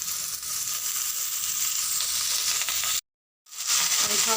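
Fenugreek leaves frying with potato and eggplant in a pan, a loud steady hiss of sizzling close up, cut by a short silent gap before the frying resumes.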